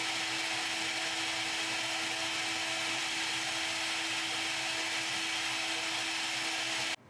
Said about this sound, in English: a 4mm ball end mill will finish the top of a hemisphere geometry with a scallop